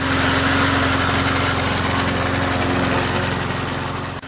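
A Toro Z-Master 4000 zero-turn mower engine runs steadily and close, a loud continuous droning hum with a low throb that eases off slightly at the end.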